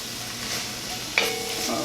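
Onions, carrots and celery sizzle steadily in a hot pan for braised chicken, a soft continuous frying hiss with a brief stir or clink partway through.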